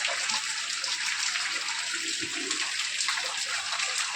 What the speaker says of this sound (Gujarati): વરસાદ બંધ થવાનું નામ નથી તો, પણ મજા આવે છે.